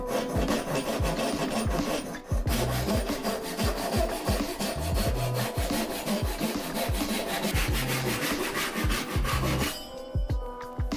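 A hand saw cuts through rough wood lumber to form the reference surfaces for hand-tool marking gauges, its rapid, steady back-and-forth strokes loud and close and continuing without a break for about ten seconds.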